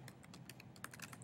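Rapid, uneven keystrokes on a computer keyboard, close and fairly quiet, a quick burst of clicks with no talking.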